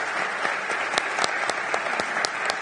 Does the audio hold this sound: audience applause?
yes